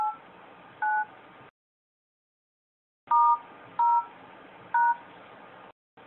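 Telephone keypad tones from dialer buttons being pressed: several short distinct beeps, spaced a second or so apart in two groups separated by a silent gap, clear and moderately loud over a soft background hiss.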